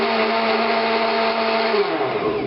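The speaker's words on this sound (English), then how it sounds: "When you turn it from off to the left, manual, it operates like any blender." A Panasonic blender in manual mode whirs steadily and loudly at close range, its motor pitch dropping slightly near the end as it winds down.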